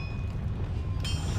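The Confringo blasting spell fires in the Hogwarts Legacy game as a loud, continuous roaring rumble, with a sharp hissing burst flaring up about two-thirds of the way through.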